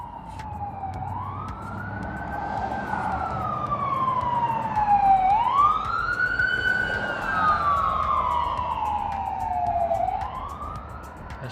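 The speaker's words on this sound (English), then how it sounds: "we got emergency vehicles coming through" Emergency vehicle sirens wail as they pass by on a road, the tone rising and falling in long sweeps over traffic rumble, loud and steady throughout.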